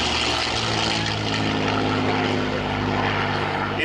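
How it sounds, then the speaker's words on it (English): A P-51D Mustang propeller fighter flies past at an air display alongside a B-17G Flying Fortress, giving a loud, continuous piston-engine drone with a steady harmonic hum throughout. "You can just hear a suspicion of that Mustang sound of the air over the gun ports."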